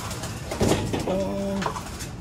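Soft pigeon coos sound twice, close by, over a faint background hiss.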